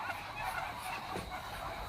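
Chinese ducks on a duck farm give faint, continuous nasal honking calls that blend into a distant flock chorus, with no talking.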